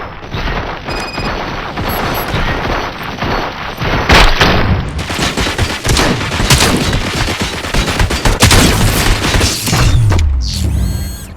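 Dense gunfire from the video game Robocop Rogue City, with sustained rapid bursts and heavy booming shots over clattering mechanical noise, loud and close throughout with barely a pause.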